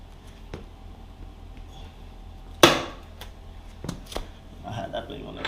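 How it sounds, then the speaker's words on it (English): Tool breaking loose the axle bolt on a 2014 Yamaha R1 motorcycle, a single sharp metallic crack up close, followed by a few lighter clicks and clanks. "let's break this axle bolt."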